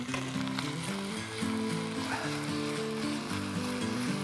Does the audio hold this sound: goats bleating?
no